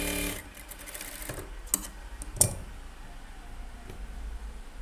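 A sewing machine stitches a blouse lining in a brief run at the start, followed by scattered light clicks and ticks from the machine as it settles.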